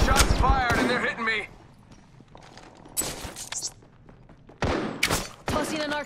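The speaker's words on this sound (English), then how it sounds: "Shots fired and they're hitting me." Gunfire in the Apex Legends video game on PS4 cracks out in a few separate sharp bursts, with quieter game noise between the volleys.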